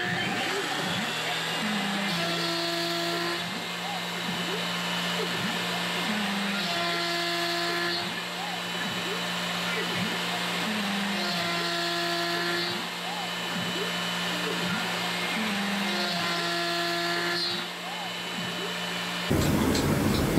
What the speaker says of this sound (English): I'll take this back to the CNC machine and cut the mortise in it.